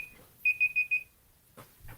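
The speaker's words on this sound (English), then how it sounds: "that's the timer for me to check those" A kitchen timer alarm goes off in a quick burst of four short, bright beeps, alone in a quiet room, followed by faint rustling.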